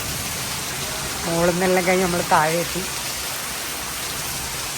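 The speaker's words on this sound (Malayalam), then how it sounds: "ഫുൾ മഴയാണ് മഴ മഴ നല്ല മഴ" Heavy rain in a Wayanad coffee plantation makes a steady, loud, broadband hiss throughout, with someone speaking briefly over it.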